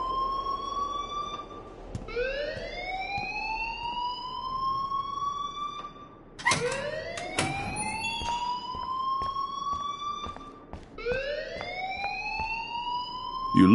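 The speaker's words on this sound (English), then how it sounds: "please turn off that alarm since that's your job" A fire alarm rings in the video game Life is Strange, a loud rising electronic whoop that repeats in sweeping cycles, each tone climbing and restarting several times without talk.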